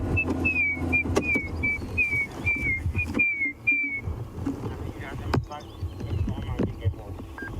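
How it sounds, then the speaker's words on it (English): Repeated high, thin whistled notes from grey hornbills in a rapid series, mid-distance, over a low engine-like throb and background murmur on a safari drive. "grey hornbills that we can hear whistling"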